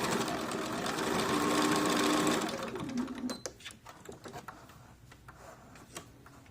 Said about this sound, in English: I like to put my fabric in when I'm sewing in a dart at an angle so that my needle points straight to the end of the dart.